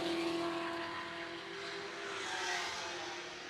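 Ford GT40 race cars run at about 165-170 mph down the long back straight at the Goodwood Revival Whitsun Trophy, a sustained engine roar heard from a moderate distance that swells and eases slightly.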